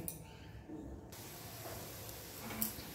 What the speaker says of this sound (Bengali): এখন দেখুন অনেকক্ষণই ভাজতে হবে এটাকে